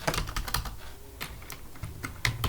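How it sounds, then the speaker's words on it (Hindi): QBasic program typed on a computer keyboard, with quick irregular bursts of close, crisp key clicks and brief pauses between them, heard alone without talk. "और मैं इस प्रोग्राम को टाइप करता हूँ"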